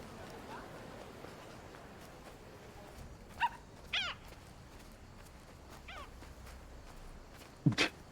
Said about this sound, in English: It's a Scottish Terrier.